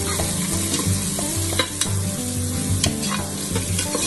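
Sliced onions frying in a pan for chicken biryani, a loud close sizzle with repeated scrapes and clinks of a spoon stirring, no talk.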